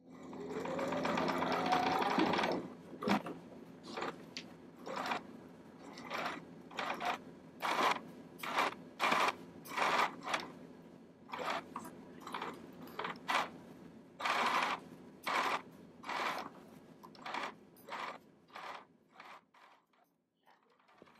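A sewing machine understitches a garment neckline, stitching through the facing or lining about 1/8 inch from the seam line. A brief steady whir opens the clip, then many short, close bursts of stitching follow in stops and starts, with no talk.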